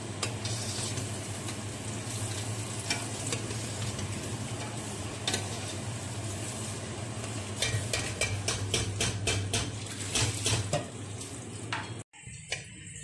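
Steady sizzling of spices in hot oil for a tadka tempering for saag, continuous and close, with occasional clinks and stirring scrapes, ending in a brief sharp cutoff.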